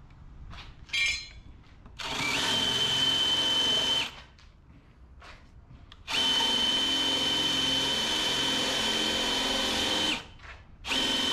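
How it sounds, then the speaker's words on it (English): A power drill with a 3/4 inch bit bores a bolt recess into cedar, running in two long, loud, steady bursts of about two seconds and four seconds with brief spin-ups and pauses between them, close by with no talk. "I'm recessing the bolt. So I'm using a 3/4 inch bit"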